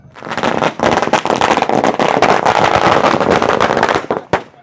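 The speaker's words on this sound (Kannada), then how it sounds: "ಸರ ಪಟಾಕಿನ ಇಟ್ಟಿದ್ದಾರೆ ದೇವ್ರ ಮುಂಭಾಗ ಇದನ್ನ ಹೊಡೆಯೋದಕ್ಕೆ" A long string of firecrackers bursting in rapid, crackling succession in front of a deity at an Ugadi village festival, loud and close, ending with a few scattered final pops.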